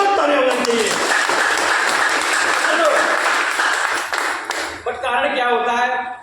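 An audience at a business seminar bursts into applause, a dense wash of clapping lasting several seconds that thins out near the end, with a voice speaking over it.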